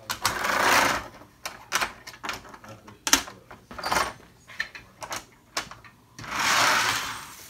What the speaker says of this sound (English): It's a micro motor.